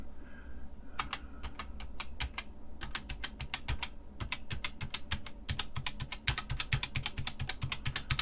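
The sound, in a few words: computer keyboard keys pressed during key counter test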